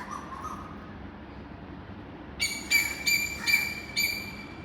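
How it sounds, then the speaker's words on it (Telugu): Birds call in the morning: a faint call early on, then a run of five bright, close chirps spaced about half a second apart over a quiet background. "మార్నింగ్ పిట్టలు ఒకటే అరుస్తూ ఉన్నాయి, కానీ వినడానికి ఎంత బాగుందో అసలు"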